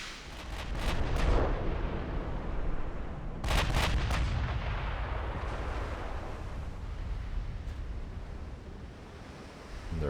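Naval ship guns firing in the video game Ultimate Admiral Dreadnoughts, heavy booming salvos at the start and around three and a half seconds, trailing into a long rumbling wash like surf, no talk.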